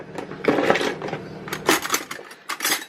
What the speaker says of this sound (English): I'm gonna go ahead and start cutting her apple.